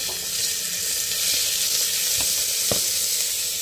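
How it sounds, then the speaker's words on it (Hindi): Vegetables, including onion, tomato and peas, sizzle in ghee with cumin in a hot pressure cooker. The frying is loud, close and continuous, with a few sharp pops and crackles. "कुकर गर्म हो गया अब इसमें मैं घी ऐड कर दूंगी और उसमें ऐड कर देंगे जीरा सारी वेजिटेबल्स ऐड कर दूंगी"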